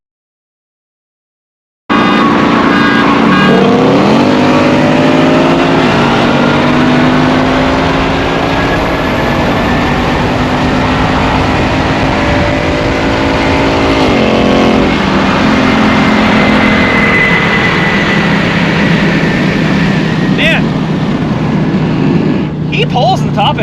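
Ford Mustang S550 accelerating hard during a 60-130 roll race, engine revving high and climbing through gears with rising, shifting tones inside the cabin, loud and sustained for about twenty seconds after a brief silent start.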